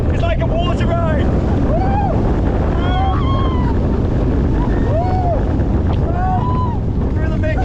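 Riding the Steel Taipan roller coaster at Dreamworld brings constant loud wind roar and rumbling track noise, with riders screaming and shouting over it in short whooping bursts.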